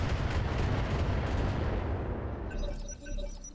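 Weapon fire in the Roguetech mech game: a dense, continuous roar of guns and artillery at steady loudness, fading into a quieter rumble with faint high clicks near the end.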